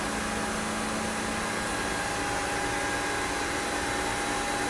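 Boat engines run steadily in a cramped engine room beneath the aft deck, a loud, constant mechanical drone with a broad noisy wash and a fixed hum, close and unbroken with no voices.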